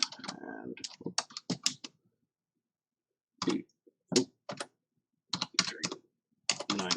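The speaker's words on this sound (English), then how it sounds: "and then just punch in the numbers" Numbers typed on a computer keyboard, crisp close key presses in quick clusters separated by short pauses, with no talking over them.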